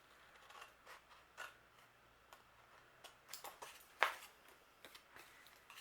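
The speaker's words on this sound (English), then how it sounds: "I think it's okay just to go ahead and cut that with my scissors" Scissors snip paper for a handmade anniversary card in a few short, scattered cuts, faint and close in a quiet room.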